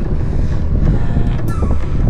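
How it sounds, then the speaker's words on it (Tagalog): Strong wind buffets the microphone with a steady, heavy rumble that roars throughout, during a long-distance gran fondo bicycle ride. "Lakas ng hangin."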